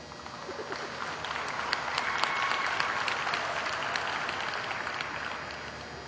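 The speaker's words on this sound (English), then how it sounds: "let's give them one more nice round of applause" An audience at the All-American Guernsey dairy cattle show claps for the junior champion heifers, a steady patter of applause that swells in the middle and eases off, moderately distant.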